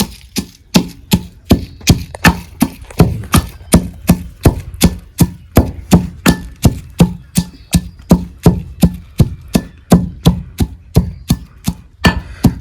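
Seeds being ground fine with quick, evenly spaced sharp knocks repeating over several seconds, loud and close with no talk.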